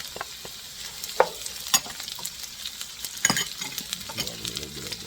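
Onions sizzling in a pan as they turn golden brown, with a steady crackling hiss broken by a few sharp spatula scrapes and stirs, up close with no talking.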